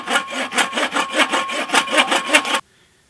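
An extruded aluminum buck saw cuts through a dead tree in a rhythmic run of about ten close, loud strokes, each rasping pass distinct, ending abruptly in silence.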